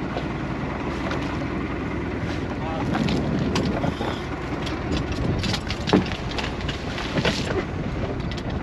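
Boat engines drone steadily on open water during a scallop and bottle hunt, loud and close under buffeting wind noise on the microphone, with a few brief thumps and knocks.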